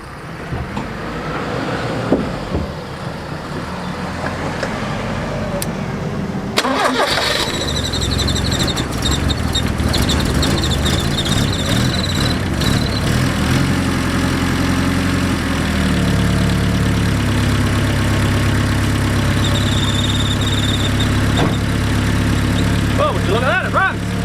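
An engine cranks and catches after an engine swap, then settles into a steady, loud idle with throttle blips and mechanical clatter, heard close up.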